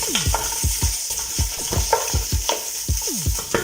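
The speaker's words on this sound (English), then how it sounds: "We'll brown our ribs." Ribs browning in hot oil for a meat sauce give a steady, close sizzle, overlaid with repeated scraping and stirring knocks in a regular rhythm; nobody speaks.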